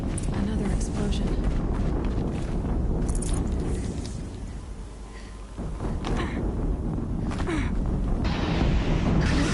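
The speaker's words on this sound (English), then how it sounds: "Another explosion." Another explosion in the game Horizon Zero Dawn, a loud blast that settles into a deep rumble before more booming bursts return over busy game noise, with game voices speaking.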